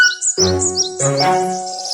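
Birds chirp in a summer forest, bright rapid tweets and short warbling calls close by, repeating in two bursts over a low sustained tonal background.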